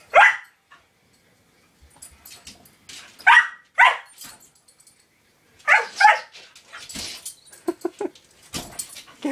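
A dog barks at a shiny light dot indoors, giving sharp close barks in short clusters with pauses between, mixed with a few higher yips and whimpers.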